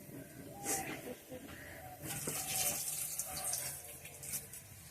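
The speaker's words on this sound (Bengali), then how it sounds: "ডালটা ধুয়ে নিলাম" Lentils (dal) being rinsed in water in a kitchen, with running tap water splashing and swishing in steady bursts, a brief louder splash near the middle, close and moderately loud.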